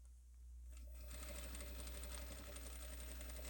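Sewing machine stitching slowly, a steady low motor hum with a rhythmic needle chatter that starts after a quiet moment and runs on evenly.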